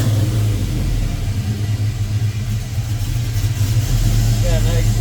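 An LS-swapped Cutlass A-body runs with freshly fitted dual exhaust and a cam with noticeable lobe, giving a steady, loud low rumble close by throughout, with a faint voice talking over it.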